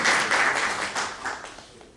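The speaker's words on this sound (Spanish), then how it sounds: "a quien recibimos con fuertes palmas" An audience at a book presentation claps to welcome an Amazon scholar and writer, a brief burst of applause with a few distinct louder claps that tapers off quickly.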